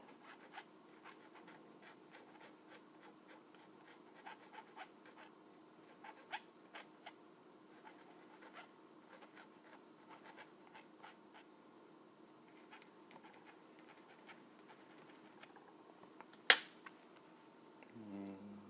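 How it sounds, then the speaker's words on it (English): A hand file is worked back and forth along a seam on a plastic miniature model, making a faint, steady, dry scratching with a few sharper clicks near the end and no talk. "we can just run the file back and forth"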